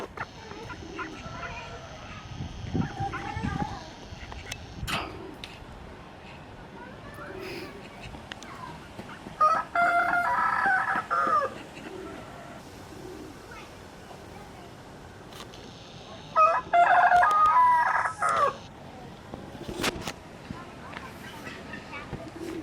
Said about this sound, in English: It's all just birds down here.